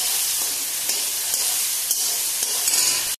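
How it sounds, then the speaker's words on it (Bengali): Peas frying in hot oil for an aloo matar curry, giving a steady, close sizzle and hiss with faint stirring clicks, continuous throughout before cutting off abruptly at the end. "তেল দিয়ে ভেজে নিচ্ছি"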